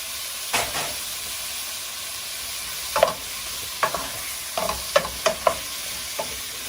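Pumpkin and pork sizzle steadily in a pot for a Burmese stew, with a spoon scraping and stirring in a few sharp clacks and clusters spread through the middle and end.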